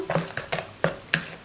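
Honey is stirred into kozunak dough, a soft, close, sticky tapping and scraping repeated in four or five even strokes.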